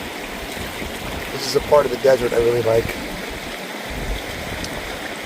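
A desert creek beside a hiking trail, flowing steadily with a soft, continuous rush in the background while someone speaks briefly over it.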